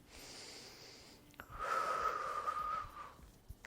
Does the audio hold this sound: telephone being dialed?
no